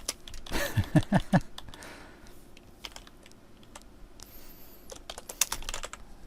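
Rapid keystrokes on a computer keyboard while writing code, a quick burst of close clicks followed by sparser scattered taps with pauses between.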